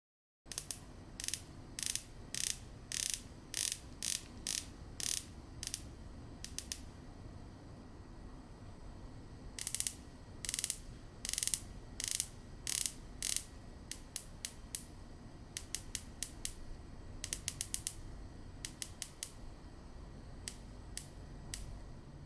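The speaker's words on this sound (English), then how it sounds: "It is a 60-click unidirectional bezel and still has that clean, crisp sound at each detent." A Tudor Black Bay Bronze's 60-click unidirectional bezel is turned in quick runs of crisp, close ratcheting clicks, each detent sharp and distinct, with short pauses between bursts.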